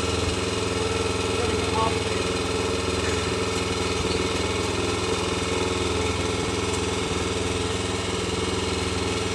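A concrete mixer engine drones steadily and loudly at a building site where the final concrete mix goes into an observatory base, with a voice talking over the continuous mechanical hum.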